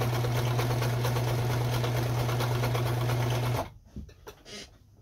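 A Kenmore 158.17740 sewing machine stitches a zigzag with a loud, steady, close mechanical whir for about three and a half seconds, then stops abruptly, followed by light handling noise and a brief spoken word.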